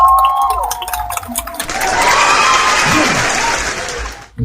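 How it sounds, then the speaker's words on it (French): Applause from an audience at a public welcome event in Haiti, starting after a brief voice and some tonal sound, then swelling into a dense, sustained clapping with crowd noise for several seconds before cutting off. "Applaudissez s'il vous plaît"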